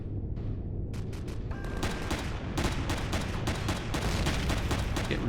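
Ground turrets keep firing in Empyrion Galactic Survival during a meteor shower, a dense, loud, continuous barrage of rapid shots and blasts over a rumbling background.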